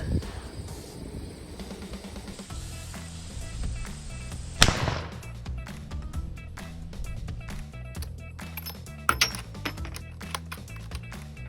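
A .450 Bushmaster Remington 783 rifle fires a single shot at an outdoor range, a sharp, loud crack midway. Softer clicks and handling noises from the rifle come before and after it.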